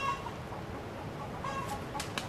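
Hens cluck in short, scattered calls at a moderate distance, set against steady outdoor background noise on a remote Indonesian island, with a couple of sharper calls near the end.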